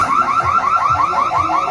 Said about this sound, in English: all you hear is the sound alarm going off